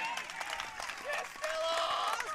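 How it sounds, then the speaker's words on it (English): A crowd applauding at a girls' under-18 singles lawn bowls final, steady scattered clapping with some cheering mixed in, heard at a moderate distance. "and the crowd appreciating the tactic"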